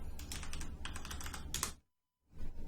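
Rapid typing on a computer keyboard, close and crisp, with a dense run of key clicks that stops briefly before a few more keystrokes resume.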